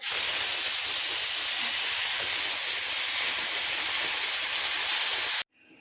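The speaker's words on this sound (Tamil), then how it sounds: "நம்ம ப்ரெஷரை வெளியில் ரிமூவ் பண்ணிடலாம்" Steam hisses loudly and steadily as pressure is released from a pressure cooker of seeraga samba mutton biryani, a close, unbroken jet that stops abruptly near the end.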